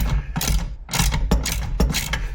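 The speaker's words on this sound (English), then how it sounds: "we're going to start with the T45 and the 9/16 wrench" A T45 driver and 9/16 wrench loosen bolts on motorcycle saddlebag guard hardware, a close series of rhythmic ratcheting clicks in about four quick bursts.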